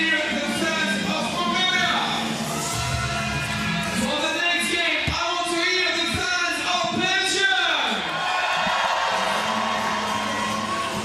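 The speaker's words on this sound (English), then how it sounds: "You hear the Belgium fans cheering because the Belgian women's team is on deck against Mongolia" Belgian fans cheer, whoop and shout at a 3x3 basketball World Cup game as the Belgian women's team comes on against Mongolia, a lively crowd roar with rising yells beneath a commentator's talk.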